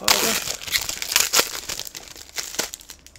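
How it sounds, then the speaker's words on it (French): Plastic wrap is crinkled and torn off Blu-ray cases up close, in a string of sharp crackling bursts with short pauses between them. "je vais prendre le temps des déballer un par un pour vous les montrer"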